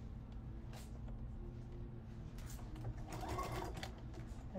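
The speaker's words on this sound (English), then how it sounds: "we're going to put a zigzag over that just to make sure" A sewing machine zigzag stitches over elastic, a faint steady whirring hum of the motor and needle running without a break, recorded at a moderate distance.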